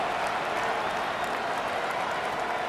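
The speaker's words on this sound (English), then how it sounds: "This crowd turning up the decibel level." A stadium crowd in the Madden NFL 26 football video game roars in a steady, loud wash of cheering and applause that holds evenly throughout, with no voices standing out.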